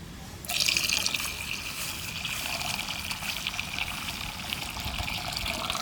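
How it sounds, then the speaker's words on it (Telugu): Water pours steadily into a pot, starting abruptly with a splashy rush and then settling into a continuous, close trickling flow. "ఇప్పుడు ఇందులో కాస్త నీళ్ళు వేసుకుందాం"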